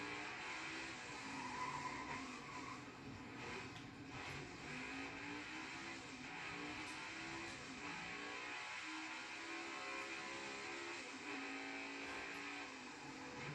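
Race cars in NASCAR Heat 5 drive side by side as the player passes rivals, engines droning and shifting in pitch continuously throughout at steady loudness with no talk.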